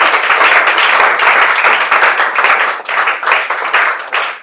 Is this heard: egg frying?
no